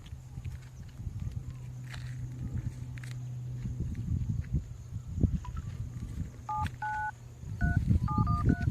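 A few phone keypad tones beep in quick succession, short paired electronic notes over faint background rustling and murmur.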